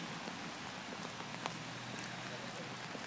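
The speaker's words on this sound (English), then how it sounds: "I want it to stop raining." Rain falls outdoors with a faint, steady hiss and scattered drops.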